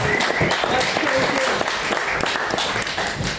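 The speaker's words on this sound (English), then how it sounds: "So I think a huge round of applause to Joe for all his efforts." A crowd at a Stonewall FC football club awards night applauds steadily, dense continuous clapping filling the room from start to finish, with a voice faintly mixed in.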